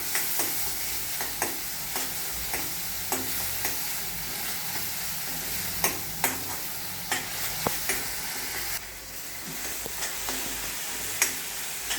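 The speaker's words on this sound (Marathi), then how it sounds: "थोडासा कांदा बारीक चिरलेला आहे, तो कांदा मी त्यात घालून घेते। तरी याच्याबरोबर परतून घेऊया" Finely chopped onion sautéing with spinach in a pan, a continuous close sizzle with regular scraping strokes of a spoon stirring throughout.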